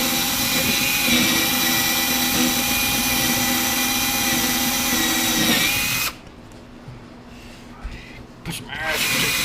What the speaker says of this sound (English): This is just a house drill, just to kind of screw in picture frames and shit like that.